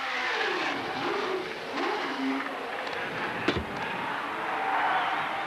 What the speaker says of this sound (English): He'll just stop the car, touch the dump can, and take off again.